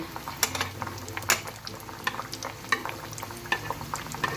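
Mughlai paratha frying slowly in oil over low heat, a steady quiet sizzle with scattered pops and crackles and a few soft scrapes, no talking.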